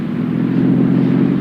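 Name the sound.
car engine running knock-free on Atlantic Imperial gasoline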